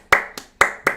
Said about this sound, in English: Anderson, let's get happy and clapping for Anderson.